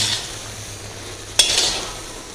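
Green chillies frying on a medium flame give off a soft, steady sizzle, with a single sharp utensil knock against the pan partway through that is followed by a brighter hiss.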